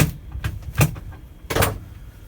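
The side door of a self-built Ford E350 camper van opens with a couple of short, close mechanical thuds and latch clicks, separated by a brief pause.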